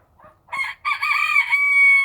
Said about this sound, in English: How are these roosters in here, man?